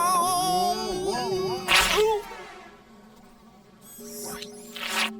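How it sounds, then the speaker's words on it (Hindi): Flies buzz around a garbage truck, a near, wavering drone that rises and falls, broken by a couple of brief loud whooshing bursts. "हे होरेस, मक्खियों को कचरा क्यों पसंद है?"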